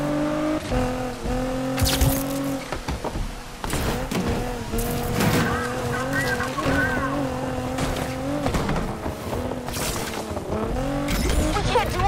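A racing car in the video game NFS Unbound roars continuously, its engine pitch rising and falling through gear shifts, with short tire squeals and skids breaking in over the steady loud drive.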